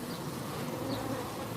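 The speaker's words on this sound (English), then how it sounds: "Look, there's a drone bee." Honey bees and a drone bee buzz steadily at a hive in midday activity, a dense, continuous droning swarm close by with no talking.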